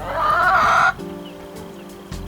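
Backyard laying hens let out a loud, drawn-out cluck close by, followed by quieter clucks and a brief low sound near the end.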